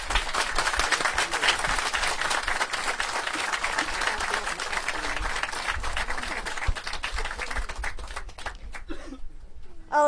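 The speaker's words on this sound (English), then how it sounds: "I would like us to all give a round of applause to the Charles Ransom" An audience at a groundbreaking ceremony gives a sustained round of applause in honour of Charles Ransom. The dense clapping fills about eight seconds and then dies away, with a few voices audible as it fades.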